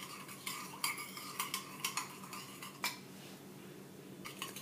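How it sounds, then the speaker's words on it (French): A spoon scrapes and clinks against a bowl while tomato, mozzarella and basil sauce is mixed, with a steady run of light metallic taps and scrapes, close and clear with no talking. "À l'aide d'une cuillère, on mélange correctement."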